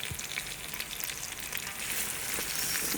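Onion and chopped pepper frying in palm oil just under medium heat, a steady, close, dense sizzle with crackling hiss that holds constant throughout, no voices.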